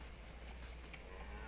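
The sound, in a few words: cow mooing in video game Farming Simulator 25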